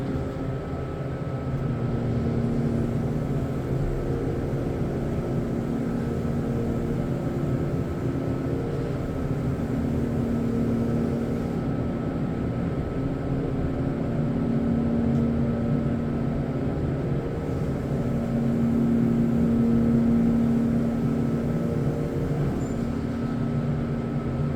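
Steady, continuous low hum and drone of a Montgomery Kone scenic hydraulic elevator in a parking garage in Gainesville, a constant motor and pump tone throughout the ride with faint mechanical whine, no talking.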